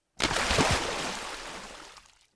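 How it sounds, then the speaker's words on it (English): A body jumps into a pool with one broad splash, then water sprays and settles for about two seconds, fairly faint and heard alone. "If you guess jumping into a pool or water splashing, you're spot on."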